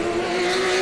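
Race cars roar around the Sebring circuit during an IGT race, a loud, sustained engine drone with a steady high-pitched tone, close and continuous.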